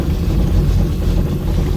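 A 1966 Chevy Impala engine idles close by, giving a loud, steady low rumble with a rough, uneven pulse that lasts the whole short stretch.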